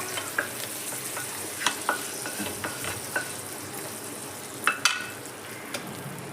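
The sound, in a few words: hot tadka tempering poured into curd for dahi tadka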